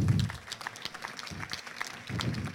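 Audience applause during a class demonstration, moderate clapping continuing throughout with a few low thumps of handling noise near the start and end.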